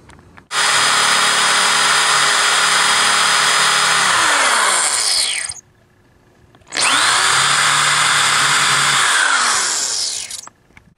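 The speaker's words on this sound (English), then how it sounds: "I'm going to drill that smaller hole so that the cap of my screw sits below the wood surface" A power drill whirs loudly and steadily for several seconds drilling countersunk screw holes in wood, stops briefly, then drills again in a second long burst, winding down at the end.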